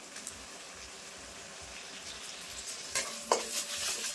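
A paste of cumin, coriander and dried chilli sizzles steadily in oil with fried onion, garlic and ginger as a spoon stirs it, with scraping and louder sputtering bursts near the end; no one speaks.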